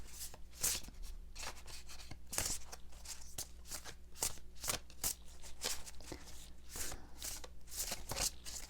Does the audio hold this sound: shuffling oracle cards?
yes